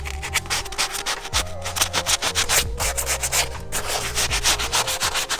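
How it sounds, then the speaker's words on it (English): A sandpaper block is scrubbed by hand against a BMW F30 335i wheel hub, giving loud, close, rhythmic rasping strokes in quick back-and-forth succession with no speech. "I'm just gonna use this block of sandpaper."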